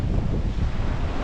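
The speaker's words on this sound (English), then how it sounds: "Gusts are absolutely horrendous of the storm." Strong storm gusts of around 40 mph batter the microphone on the North East UK coast during sea fishing, a loud, continuous roaring buffet with surf underneath.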